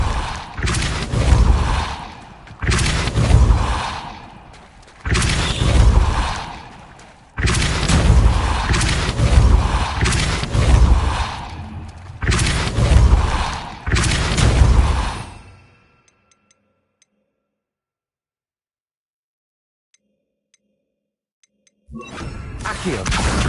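Depulso spell blasts in a Harry Potter video game: five heavy booming whooshes at regular intervals, loud and close, followed by several seconds of near silence before another blast starts.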